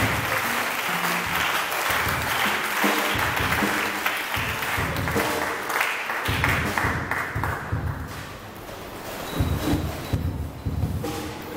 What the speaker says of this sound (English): Let's clap better to Jesus Christ.